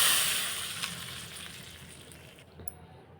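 Mustard seeds, cumin, dry chilli, asafoetida and curry leaves sizzle in hot oil as a tempering for garlic rasam, giving a close, steady hiss that slowly fades, with a couple of faint pops and clinks.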